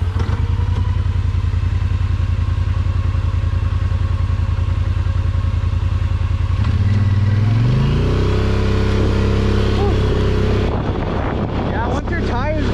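An off-road vehicle's engine drones steadily while mudding, then revs up hard with rising pitch as the wheels spin through mud, loud and close. Wind buffets the microphone and a voice is faintly heard.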